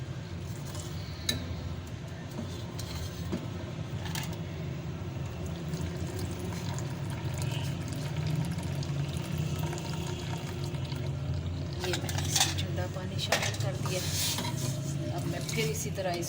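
Cold water poured steadily into a pot of Kashmiri pink tea over a flame, a soft continuous splashing with occasional clinks of metal, ending in a brighter burst of clattering.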